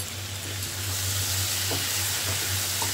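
Pui greens and prawns stir-fried with chili powder, sugar and spices in a pan give off a steady, close sizzle with occasional soft scrapes of stirring.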